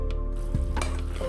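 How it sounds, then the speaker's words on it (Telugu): A pan of sugar syrup for suji laddu is stirred over a medium flame, giving a steady bubbling sizzle with soft scraping strokes and a light clink near the middle, close and alone. "ఇది పాకం వచ్చేదాకా తిప్పుకొని"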